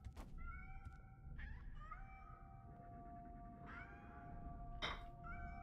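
A cat meows several times in the video game Nine Sols, with short, clear tonal cries spaced apart over a low background rumble, fairly faint and without talk.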